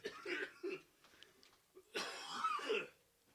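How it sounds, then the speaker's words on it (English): Several dry coughs and throat clears, close and fairly quiet, coming in two short bursts with brief pauses between. "It's a dry cough."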